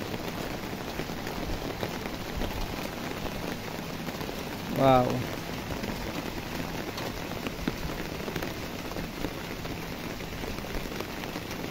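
Steady rain falls on surfaces with a dense, even patter throughout, and a voice briefly exclaims midway.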